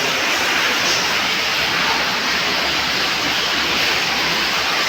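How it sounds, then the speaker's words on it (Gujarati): Abundant water pours and roars inside a hundred-foot-deep farm well, a loud, dense, unbroken rush filling the whole space with no voices. "પાણી ફૂલ પુષ્કળ આવી ગયું છે ભાઈ"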